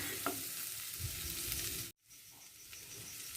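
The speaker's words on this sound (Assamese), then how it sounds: "নৰসিংহ পাত অলপ টাইম ভাজি কৰিম।" Curry leaves fry in a pan with potatoes and spices while cooking a striped spiny eel fish curry, giving a steady close sizzle that cuts out abruptly midway, then resumes more quietly.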